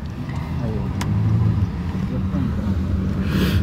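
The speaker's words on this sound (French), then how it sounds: "Bref on est dans la voiture, regardez." Riding inside a car through New York streets, a constant low engine and road hum fills the cabin while people talk.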